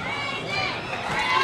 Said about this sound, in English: You hear the crowd cheering for Brandon.